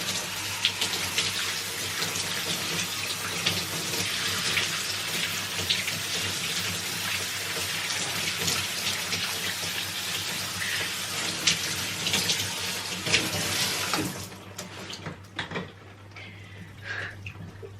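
Shower water runs steadily in a bathroom, a continuous hissing spray that pours without pause and tapers off near the end.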